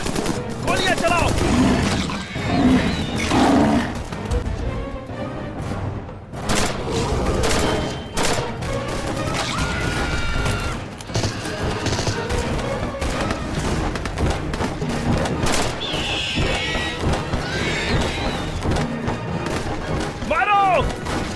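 Gunfire in an action movie scene, bursts of shots and booms layered over a dense, busy soundtrack, with shouting voices mixed in throughout.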